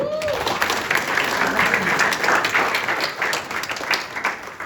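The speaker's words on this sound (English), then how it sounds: "Please clap for them again" Steady applause from an audience at a women's foundation anniversary event, dense and sustained clapping filling the space for several seconds, with faint voices mixed beneath it.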